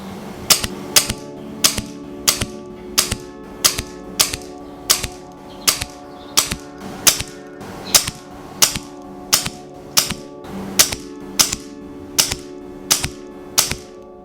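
A Brocock Concept XR Lite air rifle fires H&N Baracuda pellets in a long, even series of sharp, close cracks about every second, each followed by a brief mechanical cycling click.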